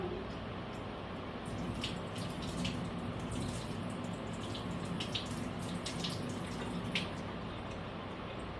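Water pours steadily out of a cooking pot for a clam chowder, a continuous close splashing rush with faint trickles and drips over it.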